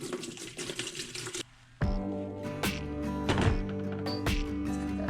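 Rusty metal parts from a Dana/Spicer 18 transfer case go into a container of fresh Evapo-Rust, with close liquid sloshing and splashing and several clinks of metal against metal and the container.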